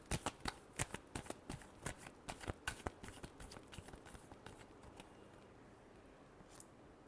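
Tarot cards being shuffled by hand in a run of crisp riffling snaps that start loud and close, then thin out into softer, sparser flicks near the end.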